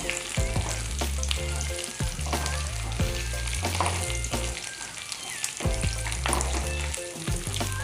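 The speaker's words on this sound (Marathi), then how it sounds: "इथं भेंडी या तेलामध्ये ना चांगली परतवून घ्यायची आपल्याला।" Okra (bhindi) sautés in hot oil over a medium gas flame for bhindi masala, giving a steady close sizzle broken by repeated stirring scrapes, with a low rhythmic musical backing underneath throughout.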